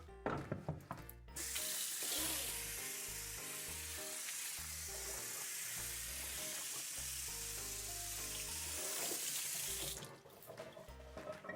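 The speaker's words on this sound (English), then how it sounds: "I just went over to the sink and I rinsed it all with water" Tap water gushes steadily into a sink as a cutting board is rinsed, a loud continuous splashing rush lasting several seconds, bracketed by quieter background music before and after.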